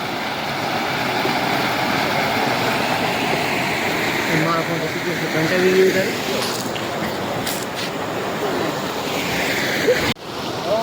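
Floodwater pours through a village in Saurashtra with a constant, loud rushing roar, like heavy surf, close by and steady throughout, with a few brief knocks and a sharp crack near the end.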